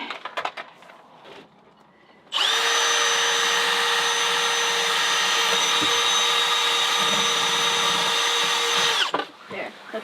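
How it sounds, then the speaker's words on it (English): A loud, steady whine of an electric drill running continuously for several seconds, boring a hole for a wire on a sailboat, with brief quieter handling noises before and after. "I only had to use the drill that time"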